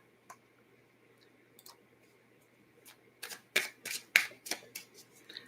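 A Rebel card deck being shuffled: a few faint isolated clicks at first, then a cluster of sharper riffling card flutters building toward the end, close and alone with no talk.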